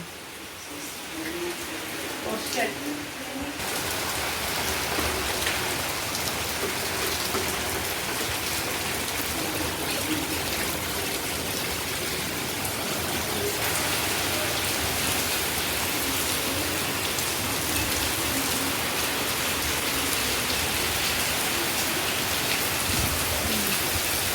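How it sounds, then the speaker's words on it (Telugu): Heavy rain pours down steadily, a dense, loud wash of noise that swells after a few seconds and stays constant throughout. "చాలా గట్టిగా అయితే వర్షం పడుతుంది"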